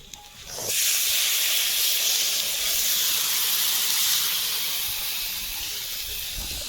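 A clay stove fire burning while taro curry cooks outdoors in the Sundarbans, a loud continuous roaring hiss that starts abruptly and holds steady before easing slightly, close and without talking.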